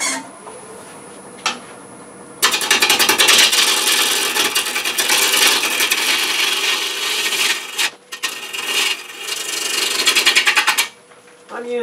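Gouge cutting a green Bradford pear bowl blank spinning on a wood lathe, a loud continuous shaving rasp in long stretches with short pauses between passes, close up.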